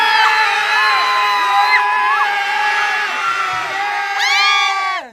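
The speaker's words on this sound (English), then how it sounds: "That cheering made me forget." A live talk show audience cheers and whoops loudly in a dense, sustained crowd roar with high shouted voices, swelling again near the end before cutting off.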